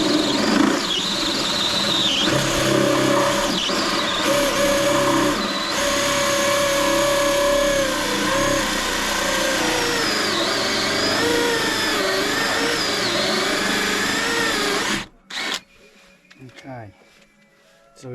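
A hole saw cuts through checker plate with a loud, high-pitched grinding and screeching, continuous for about fifteen seconds, then stopping abruptly with a few clanks.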